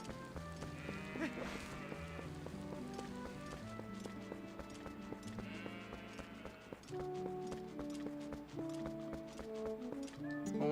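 Goats in the video game Zelda: Twilight Princess bleat amid clopping hooves, over the game's steady background music and sound effects.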